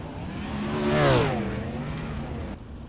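A race car on a dirt track at Weedsport drives off after cartwheeling and landing on its wheels; its engine swells as it passes close by, then fades as it pulls away.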